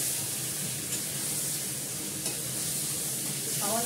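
Meat and potatoes being stir-fried kosha style in a pan give a dense, continuous close sizzle with faint scraping stirs underneath. The sound is steady and loud throughout, with no speech.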